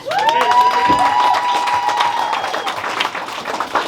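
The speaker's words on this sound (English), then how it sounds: "give my girl a round of applause" Audience applause and cheering fill a boxing press conference room after a women's championship fight, a dense steady wash of clapping with a whistle-like tone early on, fading somewhat toward the end.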